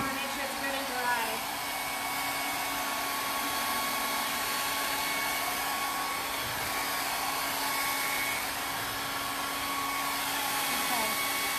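A handheld blow dryer blows steadily and continuously at close range, drying paint on a pumpkin, with a constant whirring hum and no other sounds.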